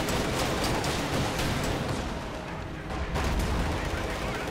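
Gunfire crackles in a Company of Heroes 2 real-time strategy match, with rapid overlapping shots aimed at a Jagdpanzer. The shots come as dense repeated bursts over a loud, continuous wash of battle noise throughout.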